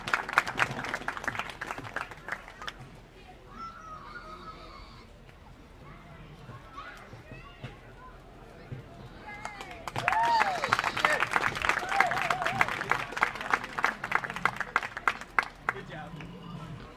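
Audience applause at a livestock hog show rises into sustained clapping mixed with crowd chatter and children's voices in an indoor arena, following a quieter stretch of murmuring.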